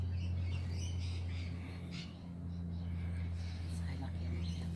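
Cockatoos squawk faintly while being fed at a house in Australia, giving a few scattered harsh calls over a low, steady background hum with soft voices nearby.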